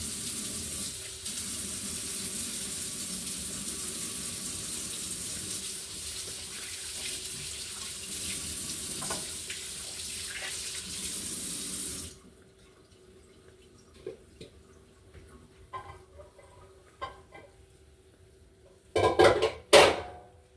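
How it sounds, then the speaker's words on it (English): Hands being washed under a running kitchen tap while cooking Jamaican food, a loud steady gush of water for about twelve seconds, then quieter drips and faint clinks of dishes, ending with a short burst of splashing. "remember to wash my hand"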